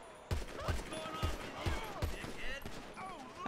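Rapid gunfire in GTA 5 during a zombie survival mode, a steady string of punchy shots about every half second, loud and close, with voices shouting over the shooting.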